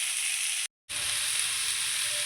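Tomatoes sauté in a hot pan for a green gravy, giving a loud, dense, continuous sizzle and hiss that cuts out for a moment and then resumes just as strongly, with no talking.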